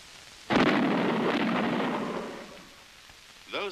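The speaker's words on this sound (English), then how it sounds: "Those bangs were shock waves from an aircraft in transonic flight." A sudden deep boom from an aircraft in transonic flight rolls into a long rumbling decay that fades over a few seconds, and a second, smaller burst follows near the end.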